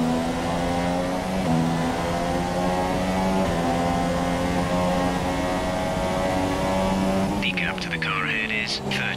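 An engine note from a Formula 1 car in F1 2017 holds a loud, steady tone under continuous talk, with quick gear-change steps, then a brief high whine from another car near the end.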